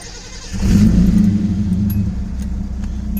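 Datsun 280ZX S130 engine running cold, close by, with a steady low idle rumble that swells as it revs up, then settles back to a smooth even idle, with a few faint ticks on top.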